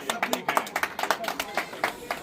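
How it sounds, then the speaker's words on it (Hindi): An audience at a block-level government program in Sopore claps in distinct rhythmic bursts, a smaller group with individual claps clearly separated, moderately loud and close. "जोर से तालियां"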